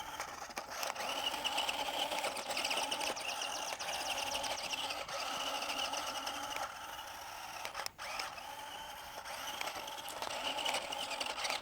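Whiny, buzzing electric motor hum from a Q137 8-wheel amphibious armored RC vehicle climbing a steep incline, steady and fairly close, with a brief dip partway through and no talk.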